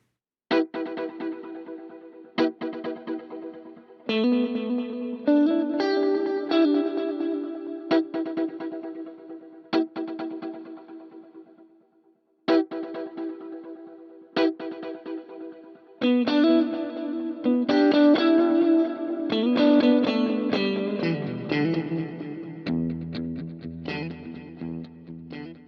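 Short synth or instrument notes run through a Plex delay plugin with plate reverb, each plucked note trailing into repeating echoes that pile up into a dense, shimmering wash over about 25 seconds, with no voice.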